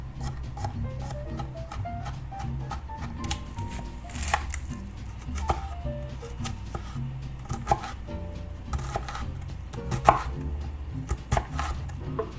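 A knife chops garlic and onion on a cutting board, with quiet irregular taps and knocks coming in short bursts for about twelve seconds, close and soft.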